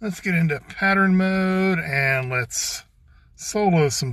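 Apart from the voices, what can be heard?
No distinct noise like a dog, phone or traffic.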